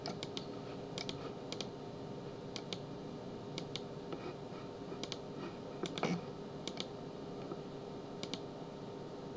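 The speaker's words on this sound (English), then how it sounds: "Let's try checking some of the boxes to see if it works correctly." Mouse clicks checking boxes on a computer form: sparse, faint, crisp clicks scattered irregularly, often in quick pairs, over a quiet room hiss with no talking.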